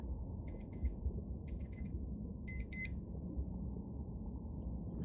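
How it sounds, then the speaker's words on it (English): A timer alarm beeps in three short double bursts, each a quick pair of bright electronic tones, over a steady low room hum. No one speaks. "The demon timer went off."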